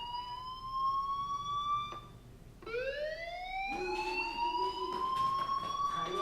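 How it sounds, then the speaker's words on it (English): A fire alarm rings in the video game Life is Strange, a loud electronic wail that sweeps upward in repeated rising tones, heard alone and clear. "Hey, do you hear that fire alarm?"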